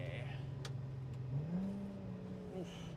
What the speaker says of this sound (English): Good downshift, that one.